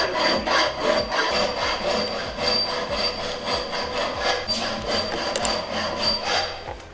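A file rasps back and forth, elongating the bolt holes in a battery-box bracket on an electric-converted Dacia 1300. The strokes are quick, regular and close, running steadily for several seconds with no talking.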